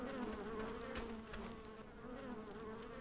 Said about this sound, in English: Damn bugs.